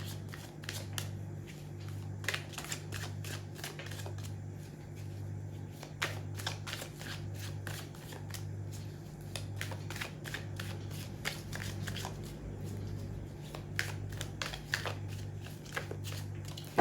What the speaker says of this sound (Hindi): जब तक मैं कार्ड शफल कर रही हूँ ना, आप अपना पूरा फोकस रीडिंग पे बना के रखो।